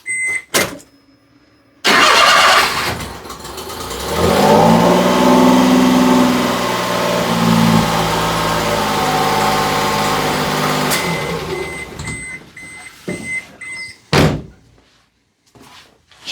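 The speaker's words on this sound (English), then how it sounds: "I'll fire it off real quick, just let you guys get a ear meter down on it and listen to it." An abandoned mini truck's engine cranks and catches after a few clicks, then settles into a steady, close, loud idle for several seconds before being shut off, with small clunks and a door slam around it.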